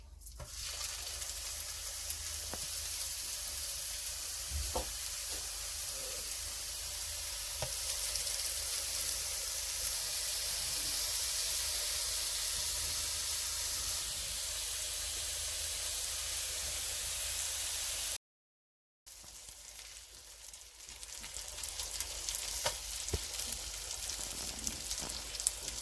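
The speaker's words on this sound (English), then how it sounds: "Cook the meat." Burger meat fries in a pan with a soft, continuous sizzle and hiss that runs at an even, fairly quiet level, broken by one short gap.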